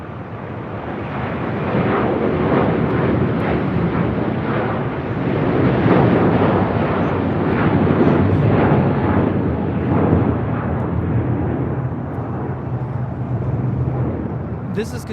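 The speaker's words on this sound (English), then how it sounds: "742 Qatari 59 Tango taking off to Doha on the A350-1000" Qatar Airways Airbus A350-1000 taking off at LAX, a loud rumbling jet roar that swells and surges in waves, gritty with wind buffeting, before easing near the end.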